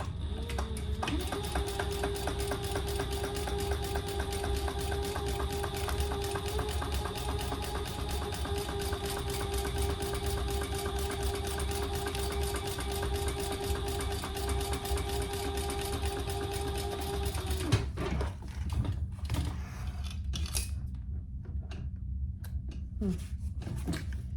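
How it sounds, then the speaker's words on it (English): A sewing machine stitches along the bottom of a crossbody bag, a long continuous hum with fine rapid needle pulses, close and steady, stopping near the end and leaving a few soft handling sounds. "now we're going to sew along the bottom only"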